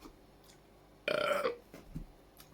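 A single loud, close burp lasting about half a second, rough and throaty, after drinking stout in an otherwise quiet room.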